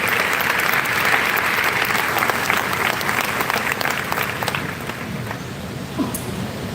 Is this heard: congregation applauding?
yes